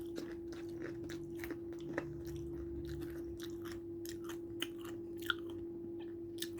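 Close-up chewing of crunchy fried chicken, a run of sharp crunches and bites in an irregular rhythm over a low steady hum, with no talking.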